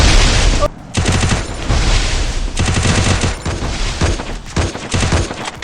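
Gunfire in an online multiplayer video game comes in loud, rapid bursts of shots separated by brief pauses, close and punchy throughout.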